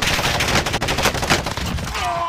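A Bruin light machine gun in Modern Warfare fires a loud, sustained stream of rapid automatic shots that carries steadily through the whole moment before tapering off at the end.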